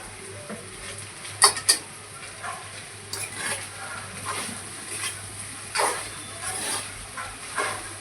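Masala being stirred through chicken fried rice in a hot pan, a soft continuous sizzle with a few sharper scraping clinks of the spoon against the pan, steady and close with no talking.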